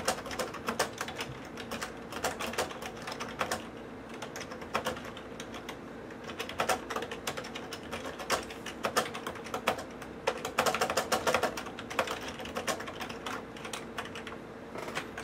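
Steady typing on a USB keyboard connected to a Nexus 7 tablet: a close, fairly quiet run of quick clicking keystrokes with short irregular pauses, and no voices.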